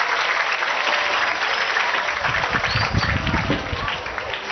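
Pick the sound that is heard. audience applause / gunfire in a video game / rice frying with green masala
audience applause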